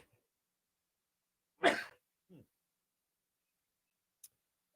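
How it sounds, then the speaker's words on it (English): A single sharp sneeze bursts out in a quiet room, followed by a faint breathy sound and a tiny click. "And I got to sneeze."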